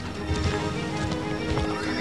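A horse whinnies and rears amid clattering hooves, a loud, dense burst of neighing and movement filling the whole stretch with no pause.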